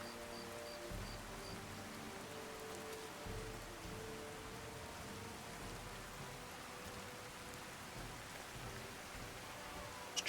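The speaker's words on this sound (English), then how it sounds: "It's raining." Rain pours continuously in Fallout: Tale of Two Wastelands, an even broadband patter on the ground with faint low thumps and a soft tonal game hum beneath, steady for about ten seconds without speech.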